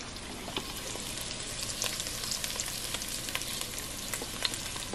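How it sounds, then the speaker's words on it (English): Pieces of teal duck meat browning in a hot pan, a steady dense sizzle and crackle of frying that holds without pause, close and fairly loud, with no talk. "after I brown the meat a little bit, I throw in my onions and all of my seasonings"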